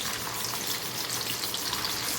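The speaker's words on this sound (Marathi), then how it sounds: "तेल गरम असतानाच आपण पनीरचे पीस टाकून हलवून घ्यायचं म्हणजे पनीर चिटकत नाही अजिबात त्या पद्धतीनं पनीर तळून घ्यायचं" Small pieces of paneer fry in a kadai of hot oil, giving a steady, dense sizzle and crackle close by with no voices.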